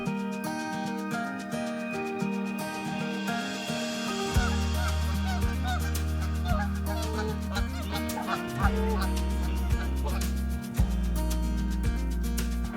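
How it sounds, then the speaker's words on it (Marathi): Seagulls gathered on a small sandbar at Devbagh-Tarkarli beach, where the river meets the sea, give a dense, steady chorus of honking, clucking calls, with several birds calling over one another close by. "या टोकावर बहुत सारे सी गल बसून आहे, जे कॅप्चर करायचा प्रयत्न करू."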